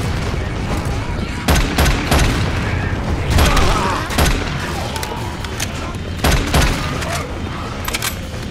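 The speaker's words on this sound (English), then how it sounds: "Pipe bomb out." A pipe bomb goes off in Left 4 Dead 2 amid a chaotic firefight: repeated sharp blasts and booming bursts over several seconds, loud and close, mixed with gunfire and clatter.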